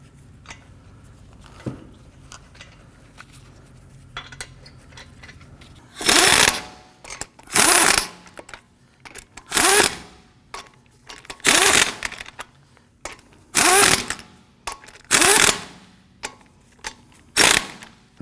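Lug nuts on the front wheel studs of a 2015-2020 Ford F-150 are run down with a power tool after a quiet stretch: about seven loud, evenly spaced mechanical bursts, each lasting around a second.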